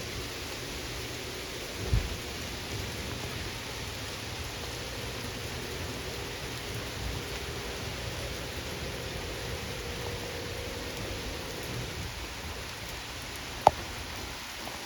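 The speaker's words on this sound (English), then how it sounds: "There's torrential rain behind those trees, which is not that far behind. And the thunder is not that far behind." Heavy rain pours steadily during a thunderstorm in northeast Ohio, a dense continuous hiss with low rumbling underneath and a couple of brief sharp cracks, no voices.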